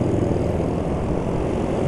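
A hot motorcycle engine runs with a rough, droning tone, a steady close and loud hum that holds even without rising or falling, alone with no voices.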